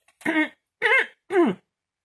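Three short, throaty rasps of someone clearing their throat, close and evenly spaced, with silence between them.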